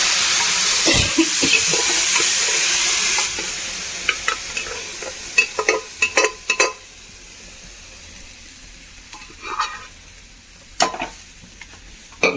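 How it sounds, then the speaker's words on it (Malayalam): Steady sizzling of boiled green peas cooking in a pan for a few seconds, then quieter bubbling as the water boils off, with occasional scraping and stirring clicks. "നന്നായി തിളച്ച് വെള്ളമൊന്ന് വറ്റി വരട്ടെ"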